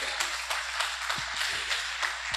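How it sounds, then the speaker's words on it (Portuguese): A church congregation applauds, with scattered hand claps merging into a steady, fairly close patter of applause that continues evenly without pause. "Podem aplaudir ao Senhor Jesus de Nazaré."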